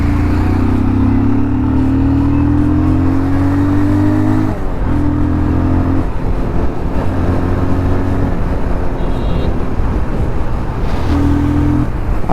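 A Yamaha RX 100 motorcycle engine revs loud and close, its pitch climbing in repeated bursts and dropping between them, with a steady idle in the gaps.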